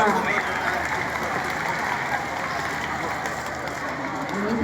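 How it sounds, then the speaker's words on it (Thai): A school audience claps at a ceremony honouring students, a steady, moderately loud spread of applause from many hands that carries on evenly for several seconds without talk over it. "ขอเสียงปรบมือด้วยค่ะ"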